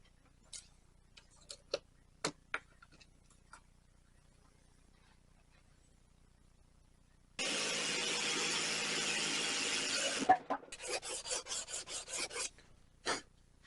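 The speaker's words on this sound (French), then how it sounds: "je vais venir ici, tout simplement, découper aux dimensions le toit" Wood offcut being sawn to size for a birdhouse roof, a few seconds of steady rasping strokes, then scattered clicks and knocks in an otherwise quiet room.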